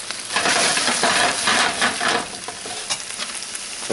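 Chicken pan-frying in oil over medium heat sizzles steadily and close, a dense crackling hiss with small pops and occasional stirring or scraping in the pan.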